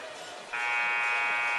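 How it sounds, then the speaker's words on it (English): A basketball scoreboard buzzer at a boys' high school game blares in a loud, steady, sustained tone that starts partway through and holds to the end over gym crowd murmur. "Buzzer sounds."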